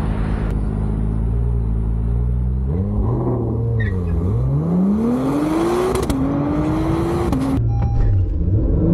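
An Acura NSX launching in a street race with launch control, the engine droning low and steady before climbing in a sharp rising pitch sweep that holds, shifts, and keeps building, loud and close throughout with no talk.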